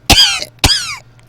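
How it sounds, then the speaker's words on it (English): Two loud, close coughs into a microphone, one sharp burst followed by a second after a short pause, with a faint low hum underneath and no talking. "can cough obnoxiously into the mic"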